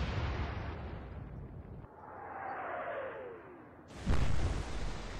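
A naval gun booms in the Atlantic Fleet game during the Battle of River Plate: a heavy blast rolls into a falling whistle of the shell in flight, then a sharp loud impact burst, with no talking.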